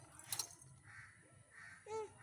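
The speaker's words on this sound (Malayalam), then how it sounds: "കാക്ക ഉണ്ടാവും" A crow caws outdoors, a couple of harsh calls near the start and another near the end, fairly close, with a person's voice talking to a child around them.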